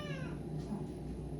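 A cat meows once at the start in the anime Chainsaw Man, a short near cry over a steady low background hum.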